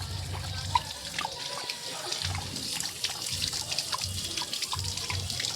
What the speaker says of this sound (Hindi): इसको पानी चाहिए, पानी चला देते हैं हम लोग